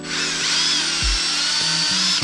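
A power drill spins a drywall mud mixing paddle in a bucket of water, a loud continuous high whine with brief thumps and knocks as the paddle turns, no voices.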